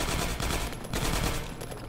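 Rapid automatic gunfire in the video game Half-Life 2 Episode One, a dense continuous burst of shots, loud and close, with no pauses throughout.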